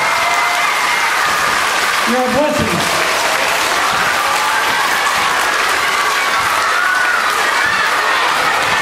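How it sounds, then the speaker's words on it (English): Students in a school show give their teacher loud, sustained applause, a dense wash of clapping with some cheering and a voice speaking over it. "please give your teacher the biggest round of applause you can"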